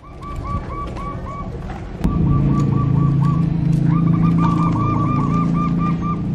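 Perkutut zebra doves, chosen birds kept without cages, coo in repeated rhythmic phrases up close, with a steady low hum and background noise underneath that grows louder partway through.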